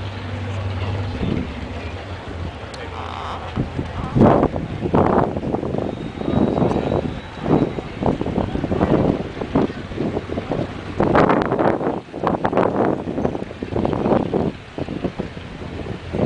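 Gusty wind buffets the microphone at an outdoor car show by a drag raceway track, with loud, uneven rumbling bursts rising and falling throughout.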